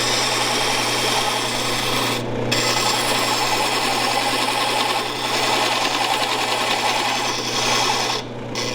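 A chisel is steadily brought into walnut spinning on a wood lathe, giving a continuous scraping, rasping whir with a few brief drops in pressure, close and fairly loud with no talk.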